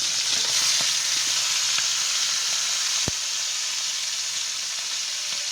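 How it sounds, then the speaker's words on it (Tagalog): Fish frying in hot oil, a loud continuous sizzle and hiss, close and steady, with a single sharp click partway through. "Ayan mga kamami, naprito na po natin ang ating isda."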